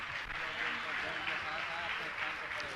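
An audience at a Jain religious gathering claps together in a steady, dense round of applause, continuous and fairly close, with a voice speaking over it.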